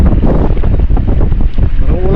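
Strong wind gusts roar and buffet the microphone near the water by a river mouth, a continuous loud, rough rumble with no pauses.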